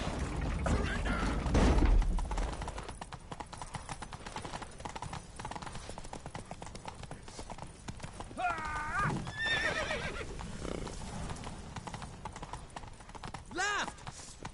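Horses in The Witcher 3 clip-clop along in a steady gallop, with whinnies and neighs rising over the hoofbeats and occasional shouted game voices.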